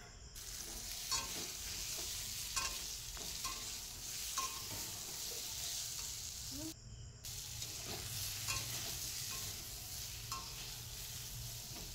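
Pointed gourd (potol) pieces frying in a pan: a constant bright sizzle with regular stirring scrapes and one brief pause partway through.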